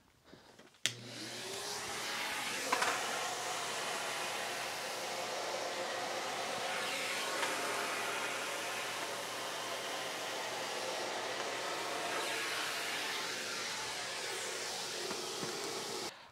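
A Henry vacuum cleaner switches on with a click, then runs with a loud, steady whooshing roar and a low motor hum, picking up pet hair. The sound holds nearly unchanged throughout.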